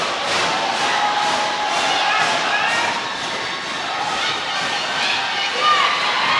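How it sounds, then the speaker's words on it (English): Roller derby crowd at an LA Derby Dolls game day, cheering and roaring loudly and continuously in a large venue, a dense wash of many voices with rising swells and a few shouts. "The crowd is fired up"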